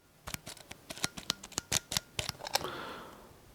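A Rollei 35 film camera's in-lens shutter and speed dial click sharply at close range, a rapid irregular series of a dozen or so crisp mechanical ticks, ending in a softer rustle.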